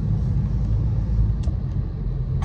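Low, steady rumble of trucks moving on a road at a police stop in Austria, heavy engine drone throughout with a couple of faint clanks.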